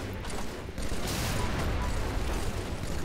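Gunfire from Halo: The Master Chief Collection crackles loudly and continuously in a dense, noisy barrage of game combat with a slight dip before it intensifies, while a voice is faintly mixed in.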